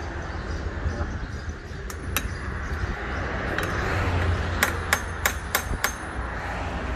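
A hammer taps on the gear housing of a Kubota tractor during a repair, with two light strikes early on and then a quick run of sharp metallic knocks near the end, over steady workshop noise.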